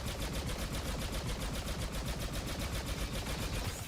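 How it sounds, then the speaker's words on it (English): Rapid, continuous blaster-style gunfire from enemy soldiers in the video game Star Wars Battlefront 2, loud and steady with a dense repeating rhythm that fills the whole stretch without a break and no talking over it. "That guy behind us shooting at us"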